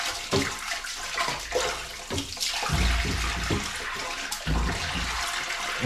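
Water from a hose runs through a clogged basement drain pipe, a steady gurgling rush with bursts of splashing and air, loud and close.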